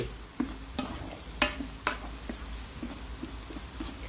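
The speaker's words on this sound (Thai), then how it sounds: "ก่อนแรกเราใส่พริกกับกระเทียมคั่วด้วยน้ำมัน ให้หอมและกรอบก่อน" Chili and garlic roast in oil in a pan for a crispy Thai garlic-chili topping, giving a soft steady crackle broken by a few sharp clicks and taps from stirring.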